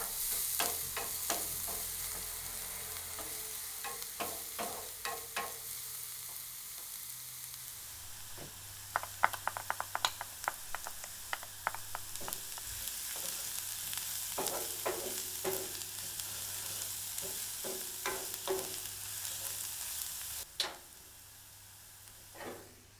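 Onions and garlic sauté in a pan for a meatloaf, with a steady sizzle and frequent scraping stir strokes throughout, fairly close and moderately loud, no talking.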